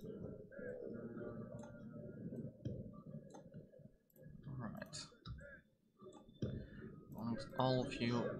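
Keys clicking on a new computer keyboard during a strategy-game session, a steady run of quick taps mixed in with ongoing talk and game sound.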